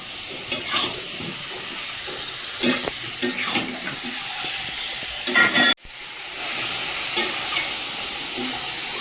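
Goat meat is stir-fried in a wok, giving a loud, continuous sizzle broken by spatula scrapes and stirring clatter. A brief break near the end is followed by more frying.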